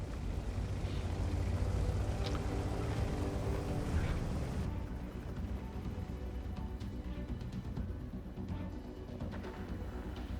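Heavy rumbling battle noise from the Kunze Panzer in World of Tanks, a deep engine roar and cannon boom that fills the first half and then settles into a quieter, steady drone, with no voices.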